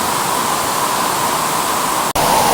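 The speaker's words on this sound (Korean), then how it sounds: "지금 보시면 여기 밑에 낮은 폭포가 하나 있고요" A low waterfall at a campsite pours with a dense, constant hissing roar, loud and close, holding steady from start to end apart from one split-second dropout near the end.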